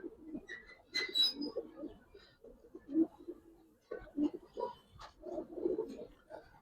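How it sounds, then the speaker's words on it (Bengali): A Giribaz pigeon coos softly and repeatedly, low murmuring calls at close range, with faint chirps from other birds and brief distant voices in the background. "এই দেখেন কবুতর"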